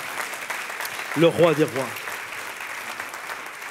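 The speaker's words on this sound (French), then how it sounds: "tous ceux qui le croient disent Amen et applaudissent bien fort" A church congregation applauds loudly after a sermon, a broad wash of clapping heard under a voice speaking in French.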